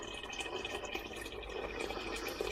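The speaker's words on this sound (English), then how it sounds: "we're going to bang 2 pints of boiling water in" Two pints of boiling water poured into a vessel of rhubarb while making cider, a faint continuous splashing fill, steady throughout.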